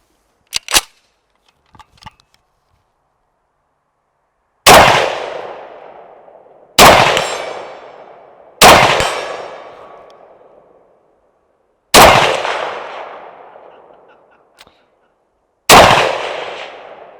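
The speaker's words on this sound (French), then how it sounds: "Et j'ai cassé la chaîne du gong." Rifle shots ring a steel gong target: five loud, sharp cracks spaced a few seconds apart, each leaving a long metallic ring that fades out, with small taps and clinks before the first shot.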